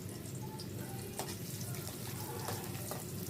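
Sliced onions frying in oil with mustard and fenugreek seeds for stuffed brinjal curry, a steady soft sizzle with occasional faint clicks of stirring, no talk.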